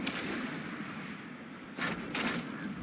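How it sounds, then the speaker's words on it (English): Missile launchers firing at several targets in Eve Online, a space game: dense, continuous booming gunfire-like rumble with a brief dip before a louder burst of launches near the end, no talk. "being able to just kind of grab 5 targets and throw a launcher on each"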